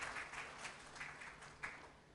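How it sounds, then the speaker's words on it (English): Faint audience applause at a business forum and awards event in Mumbai, a steady patter of clapping with a few louder swells, heard alone without talk. "a big round of applause for him"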